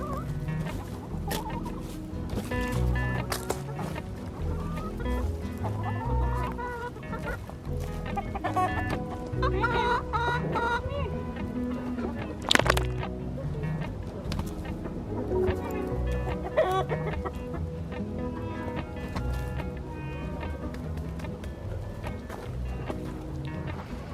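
Several free-ranging hens and roosters cluck and squawk continuously close by on a homestead, with busy overlapping calls and the odd louder burst throughout.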